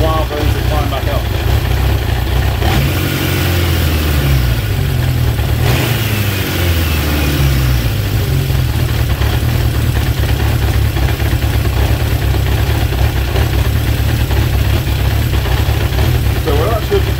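A Honda CB750 K2 motorcycle engine, mid carburettor balancing, runs loud and close throughout, with a rising and falling rev early on before settling into a steady idle.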